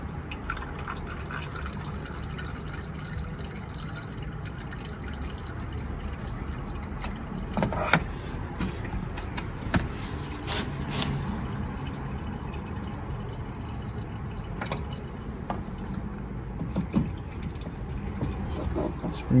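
Motor oil from a Ford Expedition with a 5.4-liter engine drains into an oil pan: a steady close trickle with scattered drips and occasional clinks.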